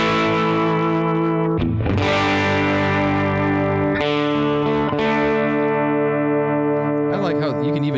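Electric guitar played through a NU-X MP2 plug-in amp modeler set to a twin reverb model, sustained strummed chords ringing out loud and close with a few sharp re-strikes, over a steady tone with no talk.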